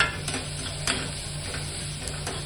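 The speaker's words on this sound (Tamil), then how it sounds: "பூண்டு வாசனை போகிற அளவுக்கு வதக்கிக்கலாம்." Onion and garlic sautéing in a pan while being stirred, a soft steady sizzle with a few faint spoon scrapes and clicks, close and alone without talk.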